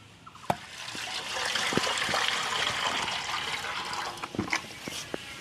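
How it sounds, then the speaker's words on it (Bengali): Water poured onto a teak plant stump, a steady close splashing and trickling stream lasting several seconds with a few small knocks. "এই আমরা জল দিলাম,"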